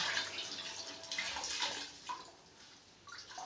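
Faint splashing and trickling of water being poured, soft and uneven, with small drips and gurgles and no voices.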